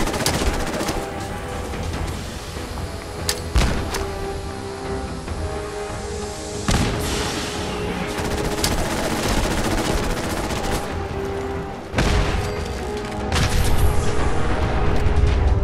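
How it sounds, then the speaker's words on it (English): Mines explode in the video game Fallout 4, a dense stretch of booming blasts and crackling gunfire-like bursts with sharp peaks, loud and continuous throughout. "It's a huge explosion."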